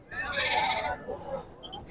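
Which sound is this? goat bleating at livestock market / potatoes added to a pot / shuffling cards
goat bleating at livestock market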